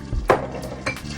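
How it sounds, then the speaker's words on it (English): A spoon scraping and clinking against a pot while stirring baked spaghetti with Alfredo sauce, a few soft close knocks and scrapes over about a second, with no voices. "Stir that up"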